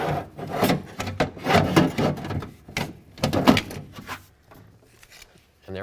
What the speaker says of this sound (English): we can now pull this regulator right out of the door